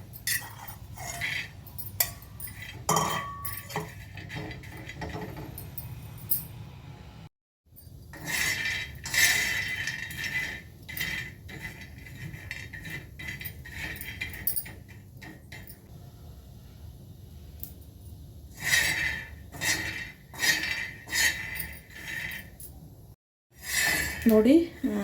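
Peanuts dry-roast in a hot pan for North Karnataka-style peanut chutney, stirred with repeated metallic scraping and clinking in bursts, while a person talks over it.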